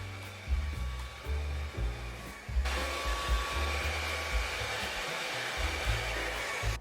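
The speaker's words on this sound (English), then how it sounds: "I'm going to place my hair above the brush and blast hot air onto them." A Hot Tools blow dryer on a medium setting blasts hot air onto bangs over a brush, a steady close whooshing roar that grows louder and fuller partway through and keeps going without a break.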